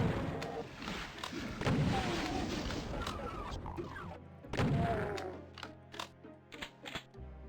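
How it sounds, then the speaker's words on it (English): A super shotgun fires repeatedly in a video game, heavy booming blasts at irregular intervals among thuds and clanks, with game music and a voice talking briefly. "You made me waste super shotgun shells."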